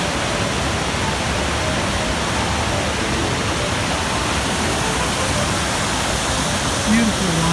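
A river waterfall running at about 800 cubic feet per second roars as a steady, dense wash of water noise that fills the whole stretch without a break.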